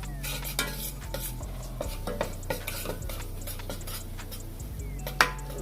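Flour being mixed into melted butter over low heat to make a roux, with a spoon scraping and tapping the pot in a steady rhythm and a few sharper clinks, close and alone over a low hum.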